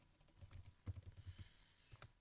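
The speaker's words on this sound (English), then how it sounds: "I'm directly typing the program." Fingers tap a computer keyboard while a program is entered, a quick run of close, soft clicks with short pauses between bursts.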